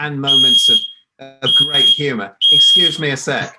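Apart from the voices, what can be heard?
smoke alarm beeping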